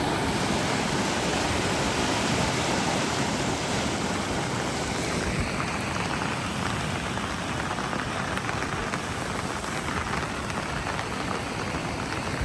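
A flooded river roars in a loud, steady, broadband wash that never lets up, close and continuous.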